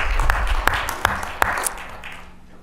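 An audience claps at a city council meeting, with a brief burst of scattered applause and several sharper individual claps standing out, then fading away.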